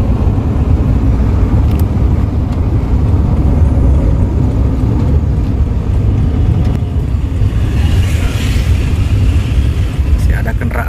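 Night-time street in the town of Sinabang, with a steady motor rumble of vehicles going by close and a louder pass near the end, while a voice talks over it.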